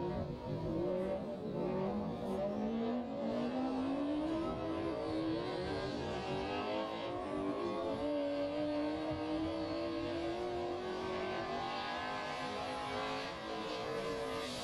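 Drift cars on a track in Vidin, engines droning and revving steadily with rising and falling tones, distant and continuous, no talk.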